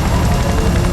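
A helicopter hovers directly overhead during an action-film scene, a loud, dense rotor roar that fills the whole moment without letup, with no talk.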